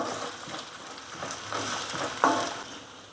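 Slit green chillies added to ginger and garlic in hot oil, a steady close sizzle with a brief sharp crackle near the end.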